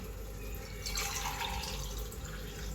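Water runs into a drinking glass at home, a steady trickling stream that brightens and rises slightly in pitch midway as the glass fills, heard close with no talk.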